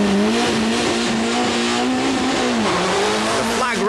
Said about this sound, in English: Kankkunen heads off into the last lap of the Rally Australia